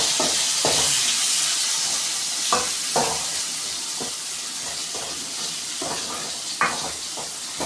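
Chopped tomatoes sauté in a pan of softened onions for South Indian kulambu, a steady close sizzle broken by repeated scraping stirs of a spatula, with no one talking.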